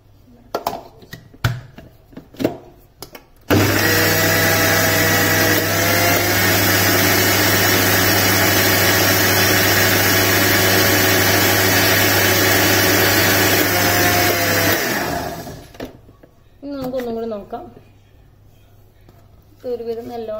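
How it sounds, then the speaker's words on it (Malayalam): A kitchen mixer grinder whirs loudly for about eleven seconds as it grinds mango pulisheri paste with added water. Brief clatter comes before the grinding, and a voice speaks after it stops. "കുറച്ചും കൂടി വെള്ളം ഇതിൽ ഒഴിച്ചു കൊടുത്തിട്ട് ഒന്ന് അരച്ചു കൊടുക്കാം"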